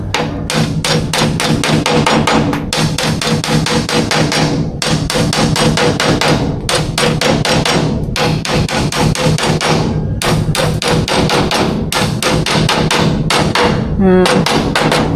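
Loud, rapid hammering, blow after blow in a dense, driving rhythm that continues almost without pause, close up.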